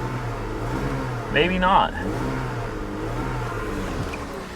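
A BMW E39 528i engine revs briefly and rises in pitch under throttle, with a steady low engine hum running throughout; a voice speaks over it.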